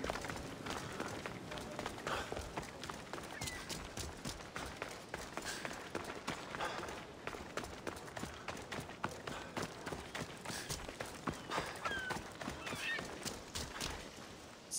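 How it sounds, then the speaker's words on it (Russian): Horse hooves clip-clop in a steady trotting rhythm, fairly close and continuous, with a horse whinnying at times and voices in the background. "Славная лошадь, Сократ."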